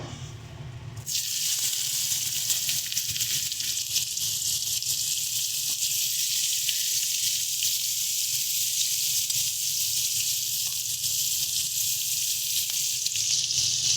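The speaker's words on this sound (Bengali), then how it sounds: "এবারে দিয়ে দেবো পেঁয়াজ ফোড়ন" After a quiet second, onions drop into hot oil for a fish curry and burst into a loud, continuous sizzle that holds steady to the end, with no talking.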